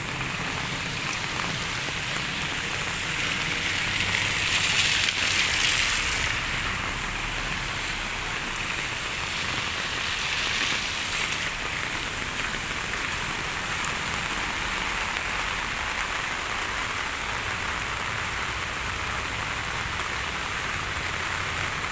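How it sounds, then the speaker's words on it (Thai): Steady rain pours down continuously in Samut Prakan, Thailand, a dense hissing wash of drops striking surfaces nearby, with no voices and only slight swells in intensity. "ฝนตกทั่วไทยครับ"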